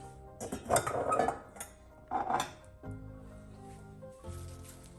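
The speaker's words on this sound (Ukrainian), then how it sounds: "Додаємо мікс і перемішуємо." Bean salad being stirred with a dressing mix in a bowl, two bursts of wet squishing and light clinks of a utensil followed by quieter scraping, close up, with no talking.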